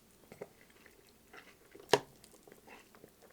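Close-up crunching of Honey Nut Cheerios minis cereal, soft intermittent chewing bites over a few seconds with one sharper crunch near the middle, quiet and alone.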